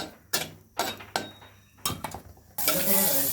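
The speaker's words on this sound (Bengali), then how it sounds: "এটা হচ্ছে ভেজে নিচ্ছি একটু লাল করেই ভেজে নেব সবজিগুলো" Vegetables frying in a pan, being reddened for a dried-fish and bean-seed dish, with a few sharp stirring scrapes at intervals and then a loud steady sizzle surging up near the end.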